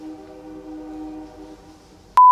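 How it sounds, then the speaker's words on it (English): A train horn sounds as one sustained, harmonic-rich blast at moderate distance and fades out over about two seconds. A short, sharp electronic beep follows right at the end. "Oh, train."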